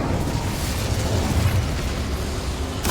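A blast from the Incendio fire spell in Hogwarts Legacy, a dense, booming whoosh of fire that stays loud and close throughout and ends with a sharp crackle.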